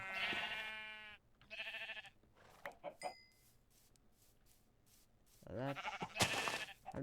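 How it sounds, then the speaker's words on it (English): Sheep bleat in the Minecraft video game, a couple of clear harmonic calls at the start and another near the end, with small clicks and quiet game sounds in between. "Sheep!"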